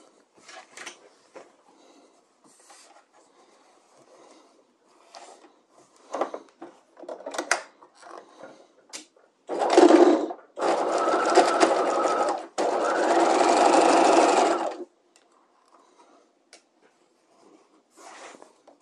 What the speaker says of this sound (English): We've now stitched together our bodice shoulder seams and side seams.